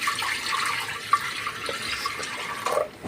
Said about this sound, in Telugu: ఇప్పుడు గ్యాస్ మీద ఇలా ఒక కుక్కర్ పెట్టుకొని ఇందులో ఒక 1/2 లీటర్ వరకు వాటర్ పోసుకోవాలి.